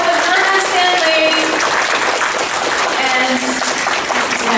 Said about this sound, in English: So give her another big round of applause.